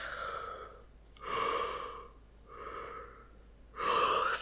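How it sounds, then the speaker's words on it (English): A person gives a long, breathy yawn in several drawn-out waves of inhaled and exhaled air, close and intimate in a quiet room. "sorry, I'm yawning"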